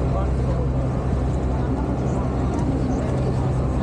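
A boat motors along the Venice canals with a steady, close, low engine rumble that holds at an even loudness throughout.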